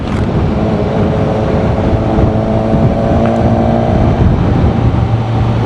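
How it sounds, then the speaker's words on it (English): A motorbike engine running steadily at high elevation in the Pyrenees, its loud continuous drone and low rumble holding an even pitch throughout, with no talk over it. "Bike started to go quiet, like it were not sucking air."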